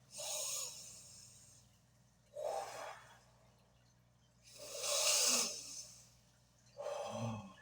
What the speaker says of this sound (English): Let's take our breath.